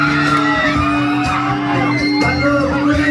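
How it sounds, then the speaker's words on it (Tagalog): A live concert crowd at a sunset session in La Union shouts and whoops together, a loud, sustained mass of voices with a steady tonal bed beneath it. "Gusto kong sumigaw kayo dito."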